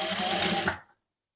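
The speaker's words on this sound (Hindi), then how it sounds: "यहाँ पे हम आधा इंच का नॉर्मल जो मार्जिन होता है वो लेते हुए इस तरीके से स्टिच करते जाएंगे।" A sewing machine runs steadily while stitching sharara lining to the main fabric, a close, fast mechanical whir lasting under a second before stopping abruptly.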